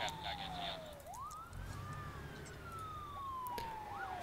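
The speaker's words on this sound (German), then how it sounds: "Der Krankenwagen von Dribbelhausen kommt mit Blaulicht zur Hilfe" An ambulance siren in the SimCity city-building game wails in long rising and falling sweeps over a soft background hum, sounding fairly distant and moderately quiet.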